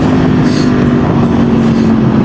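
A motorcycle engine-brakes while riding on a Karachi road with no brake applied, slowing from above 1500 RPM. It makes a loud, close, steady engine drone that continues unbroken throughout, mixed with wind rush.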